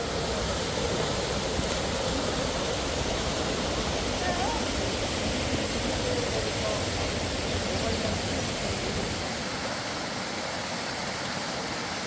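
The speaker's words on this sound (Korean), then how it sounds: "맑은 계곡 물소리를 들으며 걷는 발걸음이 가볍습니다." A clear mountain valley stream on Chiaksan runs steadily along a hiking trail, a broad, continuous rushing wash of water that stays close and even throughout with no voices.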